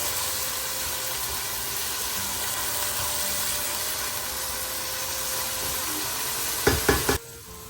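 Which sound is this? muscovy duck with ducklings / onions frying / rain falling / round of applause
onions frying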